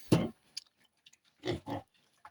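A Vietnamese pig grunts nearby, one low snort followed after a pause by two quick grunts, with faint snuffling in between.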